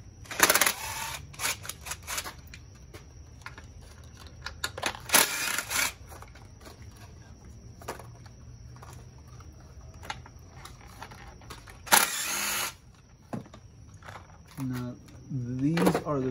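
Ignition coils are loosened on a 2015 Infiniti Q50 with a 3.7L engine, producing sharp ratcheting and clicking bursts of tool work close by, separated by quieter handling noises and speech.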